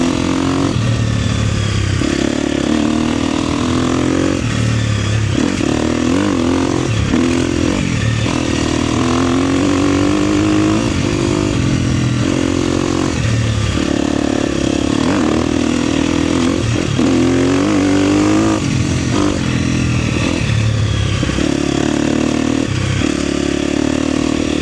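A KTM 250 XCF dirt bike rides enduro trails in the high desert, its engine revving and bogging continuously with loud, close, fluctuating throttle and rattly clatter throughout.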